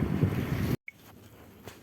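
Loud, blustery wind buffeting the microphone on a fishing outing near Darkylakh, Yakutsk, then a sudden cut to a quieter, hollow outdoor rumble.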